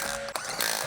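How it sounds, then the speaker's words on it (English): An electric impact wrench with a 17mm deep socket tightens a rear wheel lug nut on a 2004 BMW 325ci E46, a loud continuous mechanical whir and rattle lasting about a second with a brief dip midway. "Using the 17mm deep socket with the electric impact wrench, tighten the rear wheel lug nuts."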